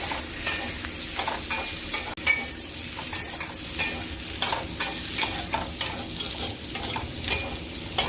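Spring onions and capsicum stir-fried over high flame for restaurant-style chilli chicken: a steady sizzle under rhythmic, repeated spatula scrapes and knocks against the pan, close and lively, no voices.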